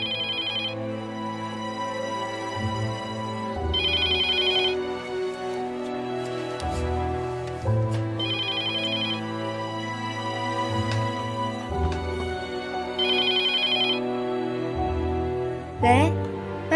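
A telephone ringtone plays in repeating bursts of bright electronic tones, loud and close, recurring over the whole stretch with short gaps between rings.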